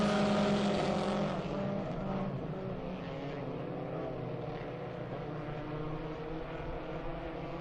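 Ministock race cars battling for the lead down the backstretch of an oval track, their engines a loud, continuous roar that drones on with no break.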